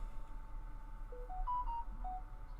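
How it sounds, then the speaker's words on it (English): A mobile phone's notification chime sounds as a short run of clear electronic tones in quick succession, moderately loud over a low background hum, with no talking. "That was my phone."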